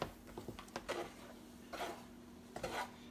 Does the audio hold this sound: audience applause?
no